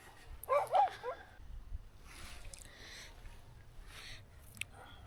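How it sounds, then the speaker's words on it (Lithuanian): Dogs give a couple of short yips or whimpers early on at a campsite, followed by faint scattered barking in the distance over a quiet low background. "Šunys galiausiai aprimo"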